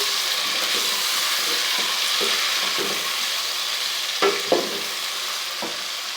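Minced meat frying in a pan with freshly added tomatoes, a steady close sizzle with soft scraping stirs throughout and two sharper knocks near the end.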